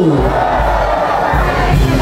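Festival crowd at the Obando dance celebration roars in unison when prompted, a dense, loud wall of shouting voices that holds steady and rises slightly near the end.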